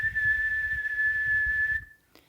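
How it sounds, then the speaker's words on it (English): A whistle blown as hard as possible gives one long, shrill, steady blast lasting under two seconds before cutting off abruptly, loud and close with no talk over it. "he blew his whistle as hard as he could"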